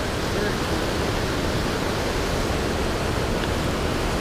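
Waterfall on Stepp Creek in Buffalo National Forest, a dense, steady rush of falling water filling the whole sound, close and loud, with no clear voices over it.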